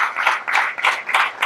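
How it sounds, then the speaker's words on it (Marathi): Audience at a Marathi devotional satsang gathering bursts into loud applause, four dense waves of clapping rising and falling close by with no voices over it. "एकदा जोरात टाळ्या व्हायला"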